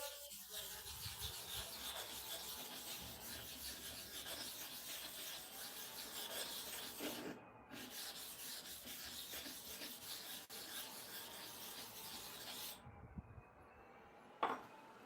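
Steady abrasive rubbing of a stone being rotated across a coarse sharpening stone surface, used for barber tools, a continuous gritty scraping that runs close and fairly loud with brief pauses and a sharp knock near the end.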